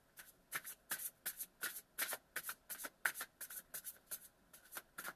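Tarot cards are shuffled in a rapid series of crisp riffling bursts, about a dozen close, quiet flutters in an uneven rhythm, with no voices.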